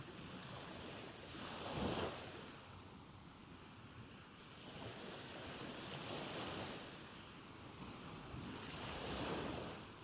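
Ocean waves and surf wash in steady, broad swells, with louder crests rolling in about every few seconds over a constant roar and some wind noise, with no voices.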